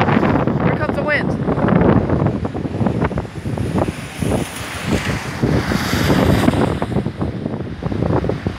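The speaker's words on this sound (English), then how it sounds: "now this one is gusting up plus 70 miles per hour, and the rain is starting to come down. Here comes the wind." Strong wind gusting up past 70 mph as heavy rain begins, a loud continuous roar of buffeting gusts and rushing air across the microphone, with a voice speaking over it early on.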